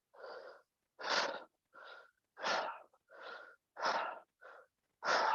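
Heavy rhythmic breathing during a bodyweight workout: eight forceful breaths alternating between longer exhales and shorter inhales, close and clear with silent gaps between each.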